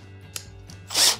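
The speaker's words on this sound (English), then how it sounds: "I'm using it inside my drill, using it as a drill bit, putting it into the initiated hole and keep drilling it in" A power drill spins a sharpened wire used as a bit into a hole in a pronghorn antelope horn during a taxidermy repair, giving a short close whirring burst with a faint click just before it.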